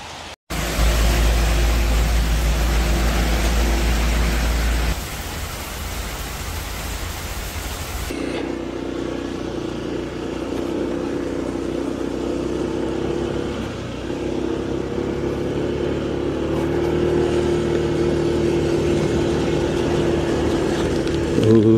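A Honda motorcycle rides through rain on a long touring trip, its steady engine drone and dense hiss of wind and rain filling the clip loudly and continuously, with a slight shift in tone partway through.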